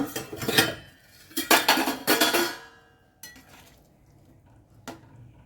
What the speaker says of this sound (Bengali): এবারে আমরা একবার ঢাকাটা খুলে দেখব